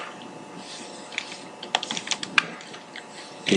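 Someone types on a computer keyboard during a Java programming lesson, a run of light, uneven key clicks with a few sharper taps, close by over faint background hiss and no talk.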